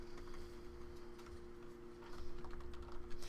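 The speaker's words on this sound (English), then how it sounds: "Is it okay that I'm typing instead of writing on the board?" Typing on a computer keyboard during an accounting lecture: a steady run of quiet, close key clicks with irregular rhythm, picking up slightly toward the end, with no talking over it.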